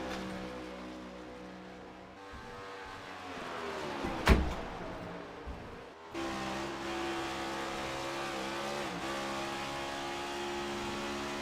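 A Toyota Camry race car in a sim racing game at Charlotte Motor Speedway accelerates hard out of turn 4, its loud engine drone rising in pitch, with a sharp burst midway and no talk over it.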